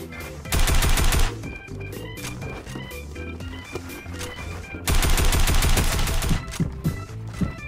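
Bursts of rapid automatic fire from a tactical assault rifle in a shooter video game, two loud sustained volleys with quieter scattered shots and in-game sounds between them, no talk.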